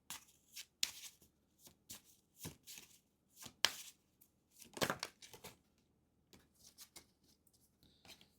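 Tarot cards are shuffled and drawn during a card reading: a series of soft, close riffling and slapping bursts with short pauses between, quiet and unaccompanied by speech.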